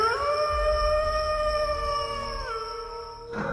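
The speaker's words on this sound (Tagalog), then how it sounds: "naalimpungatan ako dahil sa ingay na alulong ng aso" A dog howls at night around three in the morning, a long, sustained wavering cry that slides slightly lower near the end and fills the clip on its own.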